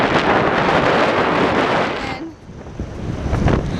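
Ocean surf washing in on a windy Sullivans Island beach, a loud continuous rush that dips briefly and swells again, with heavy wind buffeting across it.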